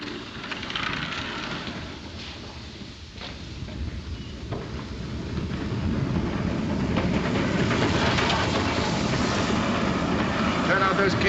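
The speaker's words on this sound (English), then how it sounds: "The train's coming in." A train rolls in steadily with rumbling wheels and rhythmic clickety-clack, growing louder and closer, with faint voices underneath.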